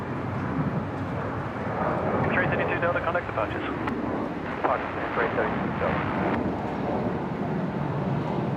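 A Fokker airliner departs Brisbane Airport on a wet, stormy day, its engines a steady roaring rumble heard from a distance while a voice talks over it and a radio chatters.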